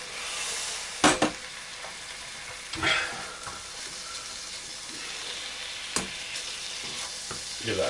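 Onion and coarse grain mustard sauce being stirred in a steak pan, a soft steady sizzle broken by a few sharp scraping strokes of the utensil against the pan.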